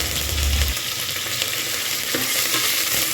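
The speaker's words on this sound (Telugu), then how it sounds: "5 సెకండ్స్ ఫ్రై అయిన తర్వాత కొద్దిగా జీడిపప్పు వేసుకొని 2 మినిట్స్ ఫ్రై చేసుకోవాలి" Bay leaves, green chillies, curry leaves and whole spices frying in hot oil in a pan, a loud, steady, close sizzle that fills the whole stretch without a break, with no voices.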